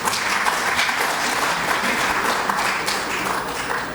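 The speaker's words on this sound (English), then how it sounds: "Please clap, yeah." Conference audience at an okra round-table session breaking into sustained applause, a dense wash of many hands clapping steadily throughout, fairly loud and close, with no one speaking over it.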